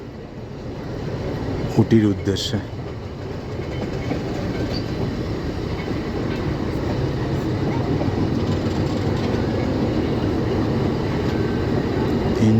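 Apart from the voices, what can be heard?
passenger train departing station toward Ooty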